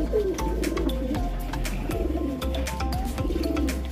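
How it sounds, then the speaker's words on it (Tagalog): Pigeons coo low and repeatedly as they drink at a water dish, with soft overlapping calls and a steady busy background throughout. "Umiinom na mga kalapatids"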